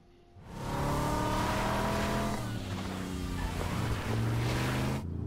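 A car engine roars during a street mission in The Crew video game, loud and sustained over several seconds. Revs rise and shift with gear changes, a tire-scrub hiss runs through it, and the sound cuts off abruptly at the end.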